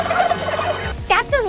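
A turkey gobbles in a loud, close burst of rapid warbling calls, with a second gobble following just after a short pause.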